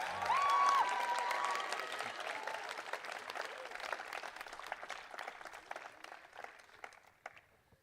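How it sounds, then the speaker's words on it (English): An audience applauds at the UWC Robert Bosch College 2022 closing ceremony, with a dense, loud burst of clapping and a brief whistle at the start that gradually thins and fades over several seconds. "Let's give a round of applause to Aisha"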